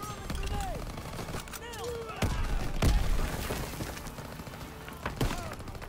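Scattered gunfire and a grenade blast in Call of Duty WWII on D-Day, a few sharp shots and heavy thumps amid ambient battle noise, with a louder boom near the middle.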